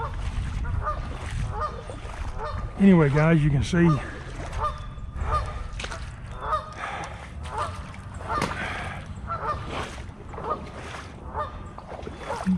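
Geese honk repeatedly near a pond during outdoor beaver trapping, a loud burst of calls early on followed by scattered quieter honks, with someone talking over them throughout.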